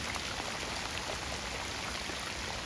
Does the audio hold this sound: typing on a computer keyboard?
no